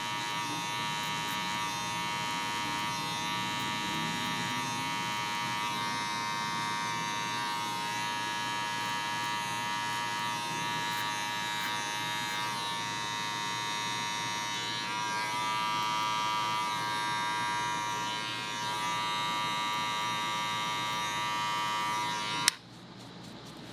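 Hair clippers run as a steady electric buzz while tapering hair for 360 waves, holding close and continuous for about twenty-two seconds with small shifts in pitch as the blade moves, then cutting off abruptly near the end.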